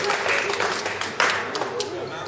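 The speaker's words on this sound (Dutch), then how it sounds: "Een groot applaus." An audience applauds at a Dutch bloggers' awards ceremony, giving a dense, steady round of clapping that stays fairly loud for about two seconds, with some voices mixed in.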